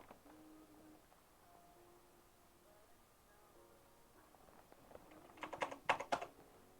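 A burst of computer keyboard typing arrives near the end, a quick cluster of sharp clicks that stands out against a quiet room and a few faint tones earlier.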